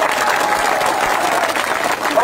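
Village crowd at a rural election gathering clapping to welcome MLA Narendra Budania, a steady, loud roar of applause lasting a couple of seconds with a voice faintly beneath.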